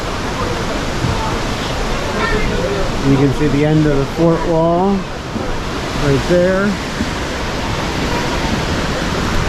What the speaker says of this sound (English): Wow, that water is powerful.